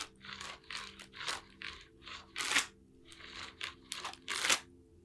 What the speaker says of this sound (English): Just snapping that fan.